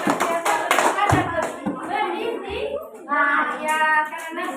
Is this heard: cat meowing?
no